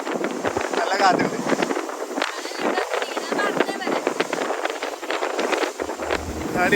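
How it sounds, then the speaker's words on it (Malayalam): Strong wind buffets the microphone on a boat near Phuket, Thailand, a continuous rushing roar with people talking over it. "നല്ല കാറ്റുണ്ട്."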